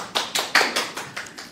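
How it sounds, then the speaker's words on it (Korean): A small audience at a lecture session gives a short burst of clapping, about six distinct, evenly spaced claps at moderate volume. "박수 한번 주실까?"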